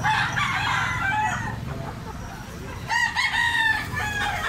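A Kelso bloodline stag rooster crows loudly and close by, two long crows separated by a short pause, over a low farmyard background.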